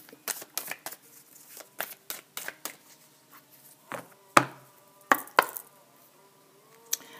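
Oracle des miroirs cards being cut and drawn during a tarot and oracle reading, heard as a run of quiet, crisp taps and riffles with short pauses between, with a few sharper snaps near the end and no talk.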